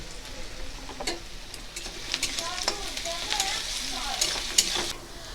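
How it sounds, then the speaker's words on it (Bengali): Onions fry in a pan to a light brown, with a little salt added, making a dense crackling sizzle that stays close and steady throughout while a voice speaks now and then. "তোমরা দেখো বন্ধুরা, আমরা পেঁয়াজটা হালকা বাদামি রং করে ভেজে নিলাম"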